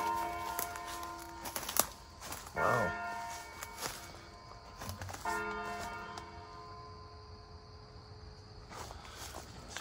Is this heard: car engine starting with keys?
no